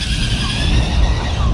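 A Kyosho Fazer MK2 RC car drives in laps around a square course, giving a steady, loud whirring motor hum with broadband rolling noise throughout.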